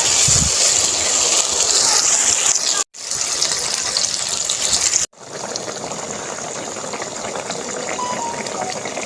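Water poured into a pan of browned frying meat while cooking kadu gosht, a loud continuous gushing hiss and sizzle lasting several seconds with brief breaks, close and steady.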